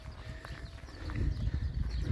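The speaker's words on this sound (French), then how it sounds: "j'ai droit à plusieurs dizaines de bétail" Several dozen cattle walking along a rural path in Spain near Astorga on the Camino Francés, with soft, irregular hoof clops and shuffling over low rumbling ambience, fairly close and steady.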